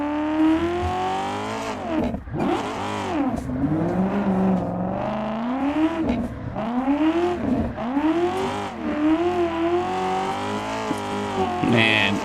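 A drift car in Assetto Corsa holds a loud, continuous engine note that rises and falls through repeated revs, with tires scrubbing as it slides, close and steady throughout.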